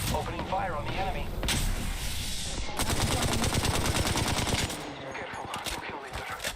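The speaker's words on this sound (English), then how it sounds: "Opening fire on the enemy." Rapid automatic gunfire in the video game Apex Legends crackles in loud, dense bursts that run almost without a break, with a voice speaking faintly underneath.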